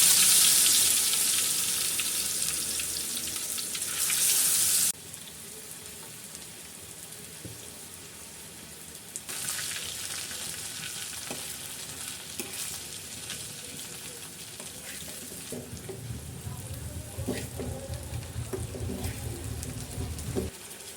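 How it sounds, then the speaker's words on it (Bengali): Fish fry in hot oil with a loud, hissing sizzle that drops sharply after a few seconds, then swells again into a steady, crackling spatter mixed with faint stirring. "তেলটা গরম হয়ে গেছে, এখন এক এক করে আমি এই মাছগুলো দিয়ে দেব।"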